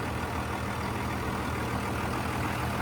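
A truck engine idles steadily under the hood right after turbo and intercooler piping work, a low, even hum heard up close with no talking.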